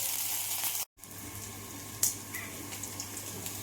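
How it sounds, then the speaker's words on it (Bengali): Bitter gourd (karela) slices frying in a pan give a steady, close hiss of sizzling oil with a few small pops, after a brief cut to silence near the start. "আমার করলাটা ভাজা ভাজা হয়ে এসছে"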